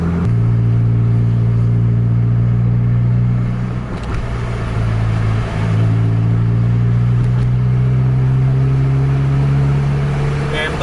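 Bus engine in a racing video game held at full throttle, a loud steady drone with a climbing pitch and a brief dip partway through, a voice talking over it.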